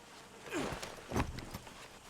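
A horse in Red Dead Redemption 2 clip-clops through a few quick hoof steps on the ground. The steps are fairly soft and close, and no one speaks.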